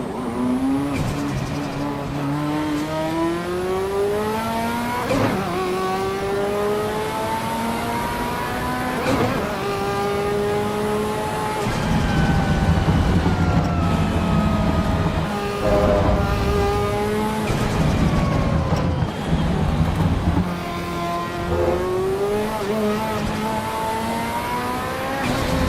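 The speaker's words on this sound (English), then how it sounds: "How nice was this Ferrari sound?" A Ferrari F40 engine in the Assetto Corsa racing game at the Nurburgring revs hard and loud throughout, climbing in pitch through each gear, dropping sharply at the shifts, with brief tyre squeal on some corners.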